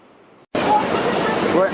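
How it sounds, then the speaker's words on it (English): Sudden onset of a steady, broadband rushing roar of a waterfall near Rishikesh, India, loud and continuous after a brief quiet start. "now I'm at a waterfall near Rishikesh"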